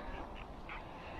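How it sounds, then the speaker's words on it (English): Canada geese honk faintly in the distance, a couple of short nasal calls over a quiet outdoor background. "Oh, Canada geese."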